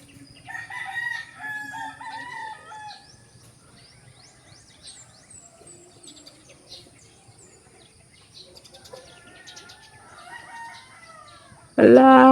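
Outdoors, chickens cluck and a rooster crows amid scattered bird chirps, moderately distant and layered, with a loud close burst of noise at the very end.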